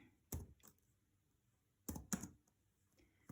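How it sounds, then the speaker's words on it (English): A few quick clicky keystrokes on a computer keyboard, in two short bursts separated by a pause, quiet and close in an otherwise still room. "let me type it."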